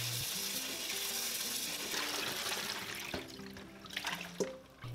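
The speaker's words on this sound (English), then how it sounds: "we're going to rinse the Napa cabbage in running water for a few minutes" Chopped Napa cabbage is rinsed under running tap water while making small-batch kimchi, giving a steady hissing rush of water with soft background music underneath.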